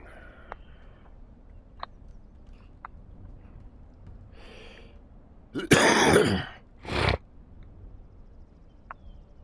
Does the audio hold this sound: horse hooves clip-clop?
no